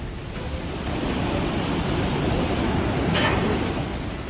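Floodwater surging through low-lying areas of Bhadrawah after heavy rain, a steady loud roaring rush with no pauses, continuous and close throughout.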